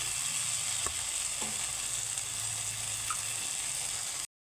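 Potatoes frying with spices in a little oil make a soft, continuous sizzle with a couple of faint stirring knocks, quiet and close, ending abruptly.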